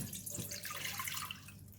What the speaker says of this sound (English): So I'm going to put it in a pot.